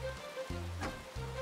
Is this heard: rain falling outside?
yes